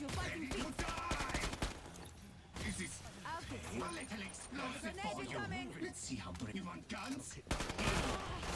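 Dense gunfire in the co-op zombie shooter Killing Floor 2, with rapid repeated shots and chaotic combat noise running throughout, while voices talk over the fighting.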